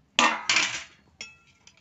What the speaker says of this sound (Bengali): একটু হাতা দি নাড়ি দেখো